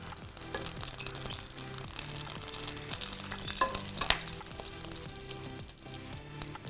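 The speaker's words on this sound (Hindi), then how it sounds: "उसको आप हल्का सा गार्लिक को फ्राई करें, सौते करें" Garlic frying in a pan for butter garlic rice, a steady broadband sizzle that runs throughout with a few brief stirring clinks and scrapes, close and fairly loud with no voices.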